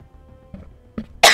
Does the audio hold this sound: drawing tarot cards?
no